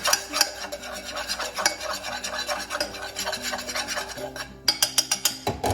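A thickening sauce in a pan for a croque madame being stirred, spoon scraping and rasping against the pan in a steady, close rhythm, with a run of sharper taps near the end.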